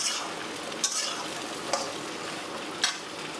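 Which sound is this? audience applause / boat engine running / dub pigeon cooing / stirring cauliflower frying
stirring cauliflower frying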